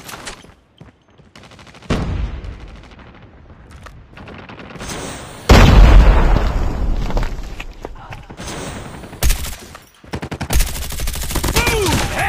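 Gunfire in a multiplayer shooter video game: bursts of rapid automatic fire and heavy booming shots, loud and close, with quieter gaps between exchanges.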